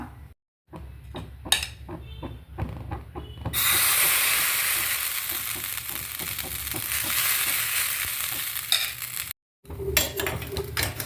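Bun dosa batter fries in a covered pan, with a loud steady sizzling hiss that swells and holds for several seconds, framed by clinks and knocks of a metal utensil against cookware.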